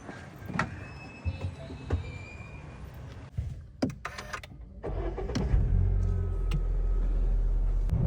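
A Honda Amaze car is started for a test drive. Clicks and clunks from the door and key are followed by the engine cranking and catching, then settling into a steady, close idle.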